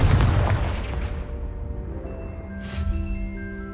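A Confringo fire spell detonates in Hogwarts Legacy, a loud booming blast that decays over a few seconds into a tonal magical ring, with a second softer burst near the end; no talking.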